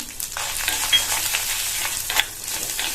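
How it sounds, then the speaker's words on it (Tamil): Lentils roasting in a pan with garlic cloves, dried red chillies and a small piece of tamarind for chutney, giving a steady dry sizzle and crackle with a few stirring scrapes, close and alone. "எல்லாத்தையும் வறுத்துக்கலாம்."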